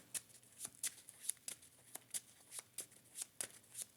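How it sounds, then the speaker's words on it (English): A Marvel Champions encounter deck being shuffled: a steady series of quick riffling snaps, soft and close, repeating about every half second. "Let me shuffle the encounter deck."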